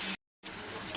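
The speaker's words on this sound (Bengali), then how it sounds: "নিয়ে একটু মশলাটাকে কষিয়ে নেব।" Spice paste of onion paste and green chilli fries in a pan for a soya chunk curry, a soft sizzle cut by a brief silent break and then resuming.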